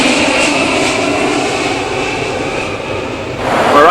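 Boeing 737 NG jet engines in flight at cruise altitude, a steady broadband cabin roar that holds evenly throughout, swelling slightly louder near the end.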